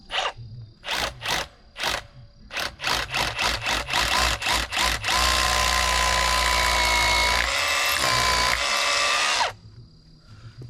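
Power drill boring into a new concrete septic tank, beginning with a run of short rhythmic bursts and then a long, loud, steady whine that shifts slightly before stopping, close to the microphone.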